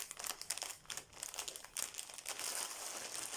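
Paper crinkles and crumples close up in a continuous rustle of crisp crackling bursts, with no voices over it.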